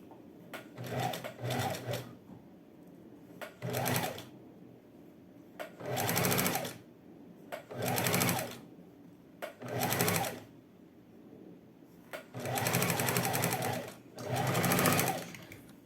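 A sewing machine runs a zigzag seam on shorts in repeated short bursts of rapid stitching separated by brief pauses, close and clear with no talk.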